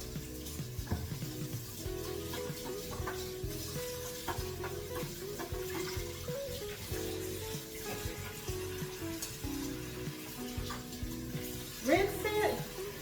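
Tap water runs steadily over a blender hopper being rinsed in a kitchen sink, a continuous close wash with light clatter of the plastic part and a brief louder splash near the end.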